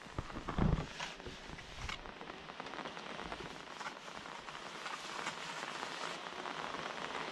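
Steady rain falls on a house under construction in the Philippines, a dense continuous hiss of drops striking surfaces at a constant level, with a brief louder thud near the start and no talking.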